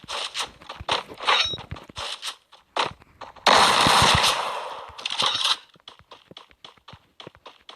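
Two players trade gunfire at a distance in a video game, heard as sharp, spaced shots and short bursts with a louder noisy stretch in the middle.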